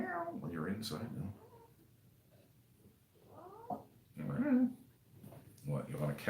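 A house cat meows in a few short plaintive calls, close by, between and under a man's speech.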